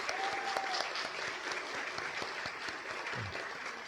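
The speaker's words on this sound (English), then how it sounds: "give them a big round of applause" An audience gives past winners a big round of applause, a continuous, even wash of clapping heard from a distance at low volume.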